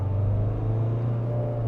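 Diesel engine of a Mahindra Thar ROXX revving in second gear, a steady low rumble with strong bass hum heard from inside the cabin, continuous and fairly loud with no talk.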